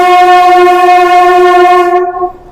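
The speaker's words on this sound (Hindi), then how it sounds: "अभी हमारी ट्रेन मुड़ चुकी है कोटद्वार की तरफ" A Najibabad–Kotdwar passenger train sounds a long, loud, steady horn blast close by, holding for about two seconds before cutting off and fading into the rumble of the moving train.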